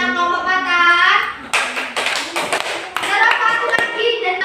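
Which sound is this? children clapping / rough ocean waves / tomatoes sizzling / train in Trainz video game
children clapping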